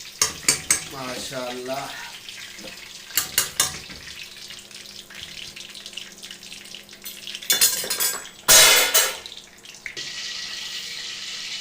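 Peshawari kebabs sizzle in hot oil in a pan, with sharp clanks and scrapes of utensils against the pan in loud bursts, a steady frying hiss underneath, and a brief voice.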